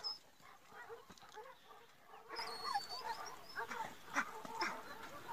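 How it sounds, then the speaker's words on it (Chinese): A small dog whimpers and whines near a tractor on a farm with livestock, the thin high whines repeating in short bursts over a low background that grows busier partway through. "这时传来小型犬叽叽哼哼的声音"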